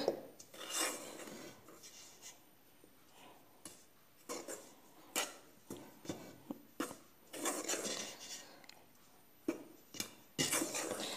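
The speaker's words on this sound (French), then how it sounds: "Je vais les mélanger juste avec une cuillère." A spoon scrapes and rubs in a bowl, mixing sugar and yeast for a pan-fried bread: intermittent rasping, clinking strokes at close range, with no one talking.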